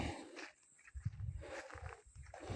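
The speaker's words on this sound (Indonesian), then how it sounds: "Banyak monyet nih di sini." Monkeys call in a forest near a main road, low, rough, repeated hoots and grunts at a moderate distance, with no talking.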